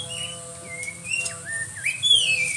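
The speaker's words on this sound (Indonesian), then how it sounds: "Siapa yang menanyakan burung punai? Ini burung punainya." A punai green pigeon calls with soft, gliding whistled notes that rise and fall, joined by other chirping birds, moderately close with no talk.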